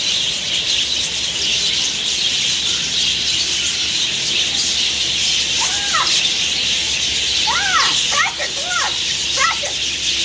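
Birds at a bird feeding inside an aquarium squawk and squeal in short, sharp bursts amid a loud, steady hiss of crowd and room noise, with a few calls clustered together.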